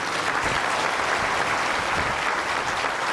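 Sustained applause from a large crowd at a religious discourse, dense and steady clapping filling the whole stretch with no voices standing out.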